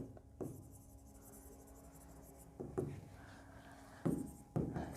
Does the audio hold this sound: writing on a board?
yes